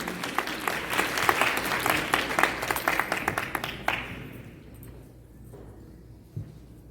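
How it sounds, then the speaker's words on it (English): A gala dinner audience in Chicago breaks into applause, dense and lively clapping for about four seconds that then fades away into a quiet room with a single faint thump. "Can we give her a round of applause?"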